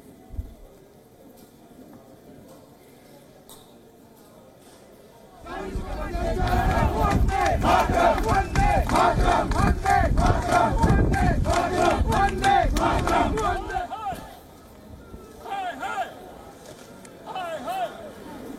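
A large crowd of protesters from the Indian community chants loudly in unison outside the Pakistani consulate in Toronto. Rhythmic shouted slogans fill the middle stretch after a quieter start, then die down to scattered voices.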